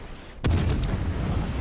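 Naval gunfire from a ship's guns in the World of Warships video game, played with a Mikhail Kutuzov cruiser: a single loud, sharp boom close by, followed by a sustained low rumble.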